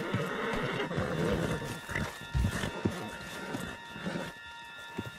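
A horse neighs and whinnies in the video game Red Dead Redemption 2, with hoof clatter and shuffling around it and brief voices mixed in, fairly close and loud.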